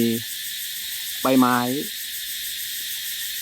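Crickets and cicadas chirp at night in a forest, a steady high buzzing bed throughout, while someone speaks briefly at the start and again midway over it.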